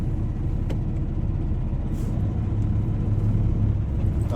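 A truck engine at the Mid America Truck Show 2024 drones with a steady low rumble, shifting up into third gear partway through the idle-to-drive hum, close and continuous with no talk.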